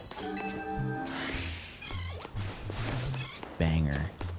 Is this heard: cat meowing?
yes